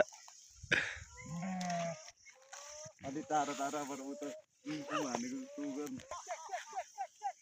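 Sheep bleating, several wavering calls over about seven seconds, moderately close, with other animal noises and outdoor background around them.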